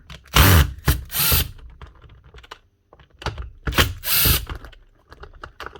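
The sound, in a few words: unscrewing the base screws of a Smartool dual head polisher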